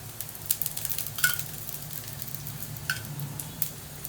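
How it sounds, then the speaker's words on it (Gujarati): Food roasting in ghee sizzles steadily and close by, with faint crackles and a few light pops and scrapes over the continuous frying hiss. "આપણે ઘીમાં શેકવાના છે."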